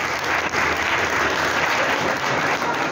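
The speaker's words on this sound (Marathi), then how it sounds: "सो एकदा जोरात टाळ्या झाल्या पाहिजे सरांसाठी" An audience at a science club event honoring Albert Einstein's birthday applauds a speaker with loud, dense, sustained clapping that fills the room evenly throughout.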